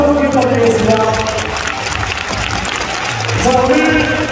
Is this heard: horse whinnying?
no